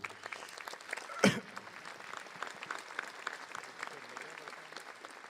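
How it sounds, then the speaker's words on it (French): An audience at a 2018 mayor's New Year address in Paris applauds, a steady sustained clapping throughout with a sharp louder burst early on, under faint background voices. "vous pouvez applaudir"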